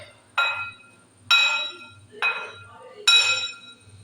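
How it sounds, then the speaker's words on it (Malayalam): A utensil clinks against a bowl while spiced batter for fried eggplant is mixed, four sharp clinks at roughly even intervals, fairly quiet and close, with faint low background sounds between them. "ഇതൊന്ന് നമുക്ക് എല്ലാം കൂടിയിട്ടൊന്ന് മിക്സ് ചെയ്യാം"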